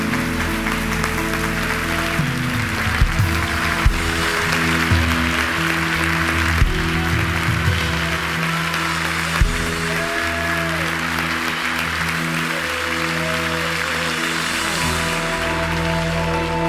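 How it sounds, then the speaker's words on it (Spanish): Church congregation standing to give a long, sustained round of applause, a dense steady clatter of clapping filling a large room with a few louder claps and a hum of organ or keyboard beneath. "démosle el aplauso más grande al Rey de Reyes,"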